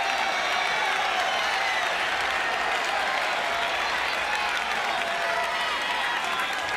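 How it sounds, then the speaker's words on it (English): A tennis crowd at the 1991 US Open applauds and cheers after a point in a first-round match between Jimmy Connors and Patrick McEnroe, a loud, continuous roar of clapping that fills the whole stretch. "Great point by Patrick McEnroe, fighting off the crowd noise."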